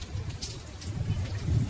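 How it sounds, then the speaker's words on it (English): Steady morning rain falls outdoors in a low, continuous patter across surfaces, close and even throughout, with no voices. "it is raining"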